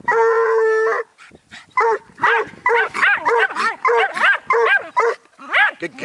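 A bluetick hound pup and a Jack Russell terrier bark at a raccoon: a drawn-out howl first, then a steady run of loud, close, rhythmic barks and yips from both dogs.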